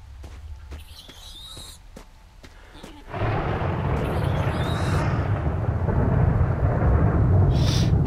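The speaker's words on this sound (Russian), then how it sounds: "Дождь идет." Rain hisses steadily, starting suddenly after a few seconds of quieter sound and continuing loud and even, with a distant rumble underneath.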